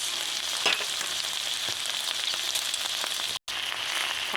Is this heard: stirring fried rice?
yes